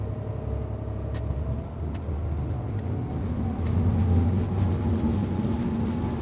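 A Maritimo 52 motor yacht's engine roar holds throughout, rising slightly in pitch and loudness midway as the revs climb from about 1200 RPM, with constant rumble and no voices.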